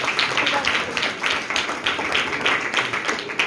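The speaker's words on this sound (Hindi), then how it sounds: "हालेलुया, जोरदार तालियां।" A church congregation at Handu Gujran Church claps loudly and continuously, with dense, close applause filling the whole stretch.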